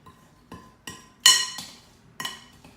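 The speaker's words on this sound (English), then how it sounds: "just use a spoon, mix it up." A spoon knocks against a bowl while a chocolate chip cheesecake base is mixed, five distinct clinking taps spaced unevenly, crisp and close, with no voices.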